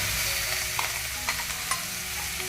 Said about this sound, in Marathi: लसूण लाल होईपर्यंत जरा तांबूस होईपर्यंत परतून घ्यायचा